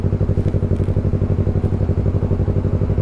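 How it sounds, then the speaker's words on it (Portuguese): Yamaha MT-03 motorcycle ridden on a highway, its engine pulsing in a fast, even rhythm close to the microphone, loud and steady throughout. "Só acelerando a MT."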